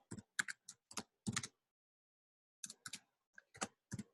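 Computer keyboard typing, a quick cluster of crisp key clicks, a pause of over a second, then another short burst of keystrokes, close and clear with no talking.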